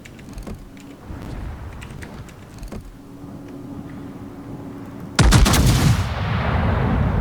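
Battleship main-battery salvos from a Tier X Japanese battlecruiser, the Bungo, in the naval game World of Warships: scattered booming gunfire, then a loud close salvo blast near the end with a rumbling tail.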